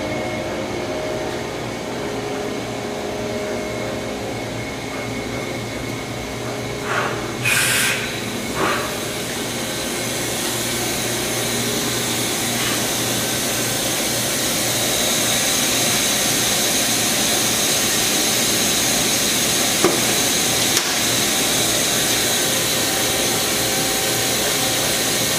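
A Kitamura HX300 horizontal machining center runs with a constant loud whirring hum that swells partway through, broken by a few sharp clunks and hisses during a pallet change early on and by brief clicks later.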